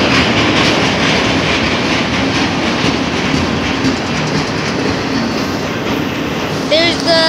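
A Union Pacific freight train rolls past close by, with loud, steady wheel rumble and rhythmic clickety-clack of railcars carrying on throughout, plus a brief squeal near the end.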